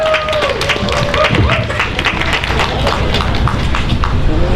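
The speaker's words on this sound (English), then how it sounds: "Round of applause, please." Close, loud clapping rings out at a Nakba commemoration rally in White Plains, New York, with scattered sharp claps and voices mixed in throughout.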